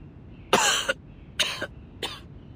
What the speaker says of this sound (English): now I cough and splutter just like it does